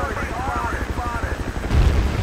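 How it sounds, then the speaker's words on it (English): A helicopter flies over a Battlefield 2 multiplayer battle, its rotor making a steady rhythmic chop beneath a player's voice, with a heavier rumble or blast joining near the end. "Oh, chopper behind."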